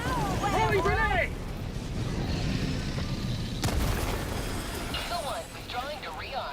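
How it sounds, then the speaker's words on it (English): Grenade blast in the video game Helldivers 2, a heavy low boom with broadband crash amid ongoing battle noise and a chirping creature-like sound at both ends, with a voice heard during the action. "grenade!"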